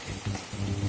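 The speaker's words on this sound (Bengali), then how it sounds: "এগুলোকে সুন্দর করে ভেজে নিতে হবে যতক্ষণ না পর্যন্ত হালকা ব্রাউন কালার না আসে" Whole cloves, about ten peppercorns and five or six cracked cardamom pods frying in a pan until light brown, a close, crackling sizzle with brief stirring scrapes and no talking.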